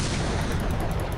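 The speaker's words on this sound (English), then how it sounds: "I'm going to go ahead and lob a whole bunch of grenades over here" Maelstrom grenade launcher fire in Planetside 1, a dense, continuous roar of rapid explosive shots and blasts, loud and close, with a faint regular ticking running over the top and no voices.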